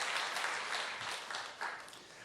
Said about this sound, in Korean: 잠깐 자리에서 일어나 주시면 우리 박수로 격려하겠습니다